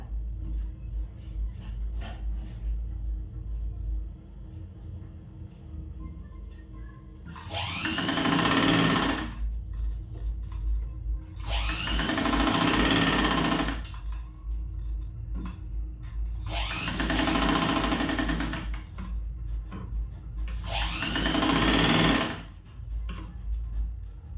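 A sewing machine stitches a blouse with four tucks in four loud bursts of about two seconds each, separated by short pauses filled with low hum, with no talking.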